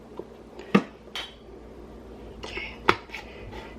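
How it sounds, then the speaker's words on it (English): Metal canning lids clink and scrape sharply in a few bright, brief knocks as they are pried apart in a kitchen while chicken stock is being pressure canned, with faint speech in the background. "Get your lids. Fight with your lids. Mine are sticking together."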